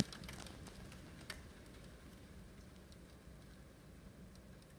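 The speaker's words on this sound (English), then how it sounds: "There's an actual hailstorm." Hail falls outdoors during a hailstorm with gusty wind, a faint, even patter of small ice pellets with a few sharp ticks scattered through it, heard at a distance with no voices.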